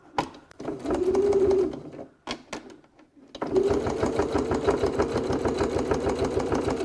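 Sewing machine back stitching a wallet, running in two steady mechanical bursts with a short pause between, the second run longer and fairly loud and close.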